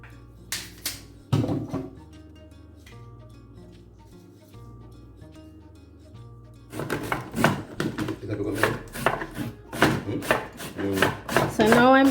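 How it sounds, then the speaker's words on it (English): Coconut is grated by hand for Jamaican sweet potato pudding, giving sharp rhythmic scraping strokes that come close up, at first sparse and then quicker under people talking. "So now I'm grating my coconut, guys."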